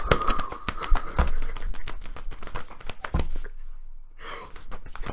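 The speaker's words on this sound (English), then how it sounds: "that was the sound of one of those" Inflatable tube man flapping at a car dealership, a loud, dense fluttering and crackling of flailing fabric that rattles on steadily, then briefly drops out and returns near the end.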